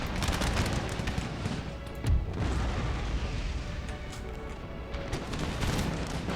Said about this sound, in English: Cannons keep firing over our lines.